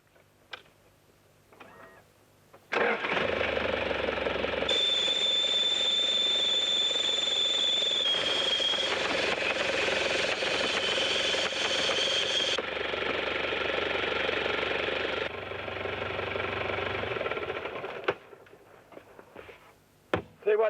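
A vehicle stuck in an outback sand bog idles steadily while its exhaust gases inflate a power jack bag to lift it, a loud sustained drone with a faint high whine riding on top for several seconds before cutting off.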